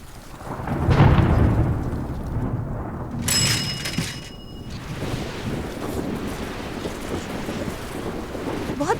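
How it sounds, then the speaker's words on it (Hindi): A thunderstorm with heavy rain: a deep rumbling thunder roll builds early, then steady dense rainfall hisses on with wind gusts and a brief sharp metallic clatter midway. "बहुत तेज बारिश होने वाली है"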